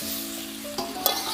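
Jackfruit with prawns frying in hot oil and spiced masala, a steady loud sizzle broken by a couple of sharp stirring scrapes near the end.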